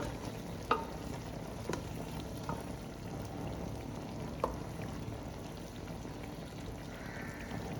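Capsicum is stirred into a chicken and broccoli curry cooked with coconut milk, giving a soft, continuous frying bubble. A few faint utensil taps come through, and no voices are heard.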